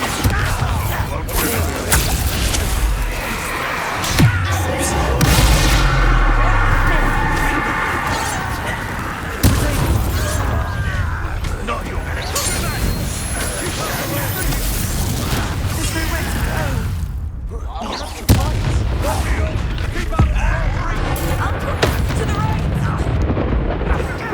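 Bombarda spell blasts from the Hogwarts Legacy video game boom over a loud, continuous battle soundscape, with heavy low thumps and bursts, some sharper hits around the middle, and game voices mixed in.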